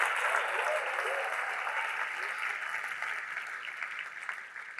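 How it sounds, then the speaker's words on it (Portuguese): A church congregation applauds in a sustained burst of clapping that stays loud and then eases slightly, with no talking over it. "Você pode aplaudir aí o nome de Jesus."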